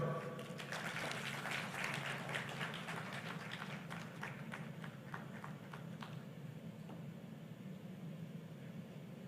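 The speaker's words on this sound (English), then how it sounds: "Another round of applause, ladies and gentlemen" Faint applause from an audience at the opening of an executive leadership programme in Ada, Ghana, with a stretch of scattered clapping that thins out after several seconds.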